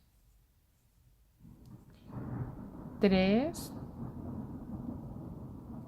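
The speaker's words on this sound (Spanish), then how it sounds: "¡Qué bárbaro! ¿Cómo está lloviendo?" Thunder rumbles low and grows from quiet to a sustained roll outside during a rainstorm, while a nearby voice counts over it.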